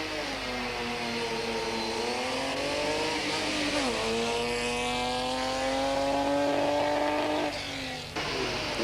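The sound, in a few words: Nissan Safari and other trucks driving away at rally start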